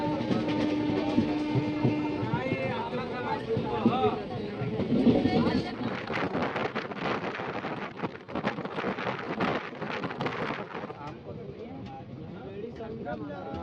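A crowded passenger train on an Indian line heading toward Jhusi station, bound for the Kumbh Mela, rumbles steadily along the rails with continuous rattling and clatter while people talk throughout.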